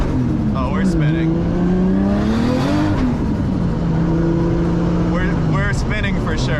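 A 500-horsepower Nissan 240SX spins out, its engine droning steadily under a loud, continuous roar of tire and road noise, with people talking over it throughout.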